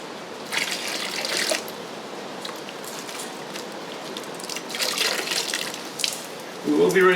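Gold panning by hand, water sloshing and swirling in a pan in rhythmic bursts, with gritty splashes of sediment, moderately close and fairly quiet.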